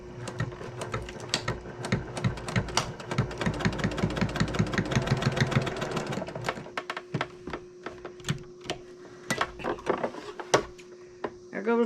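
A sewing machine stitches a 1/4 inch seam on a fabric bowl cozy with fast, rhythmic mechanical clatter at close range. It then slows into separate uneven thumps and clicks, with no talking.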